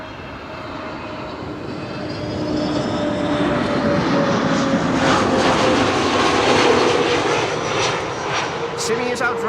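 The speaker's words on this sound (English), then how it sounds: "This is SAS flight 1553 arriving from Stockholm, A320neo." An SAS Airbus A320neo arriving from Stockholm makes a steady, broad jet roar that swells into a loud, close pass. A voice talks over it at the airport.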